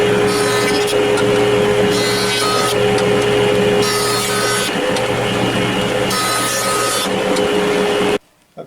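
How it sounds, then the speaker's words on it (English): A bandsaw cutting wood pieces to rough width, with a steady whining machine hum under a rasping cut that swells and fades in several passes before stopping abruptly. "then I'm going to bandsaw the pieces to rough width"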